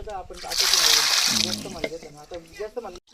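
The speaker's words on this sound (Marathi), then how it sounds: "मस्त पाणी धुवून घेते" Bricks being rinsed with water for a village-style clay stove, a loud splashing, sloshing pour in the first half with voices talking over and around it.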